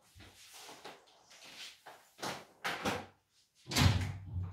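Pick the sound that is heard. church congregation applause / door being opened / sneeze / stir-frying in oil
door being opened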